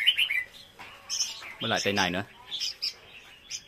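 Baby red-whiskered bulbul chicks on a farm give several short, high chirps in bursts, close by, mixed in with someone speaking.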